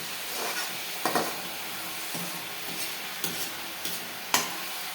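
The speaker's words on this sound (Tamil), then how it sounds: "வதங்கிட்டே இருக்கு பாருங்கள். நல்லா நல்லா வெந்துக்கிட்டே வெந்து வருது பாருங்கள்." Banana flower and vegetables sautéing in a pan, a steady soft sizzle with occasional louder scrapes and clinks of a spoon stirring, close and without talk.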